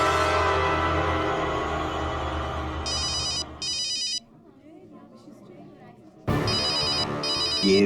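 A telephone rings in two short bursts of repeated electronic trills, then rings again after a pause, loud over a busy background of music and sound effects in a tense crime-drama scene.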